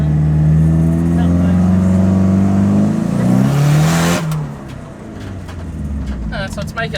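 A JDM car engine is revved while brake-boosting, a loud, sustained rising rev that climbs in pitch for about four seconds and then drops off, close up, with people talking around it.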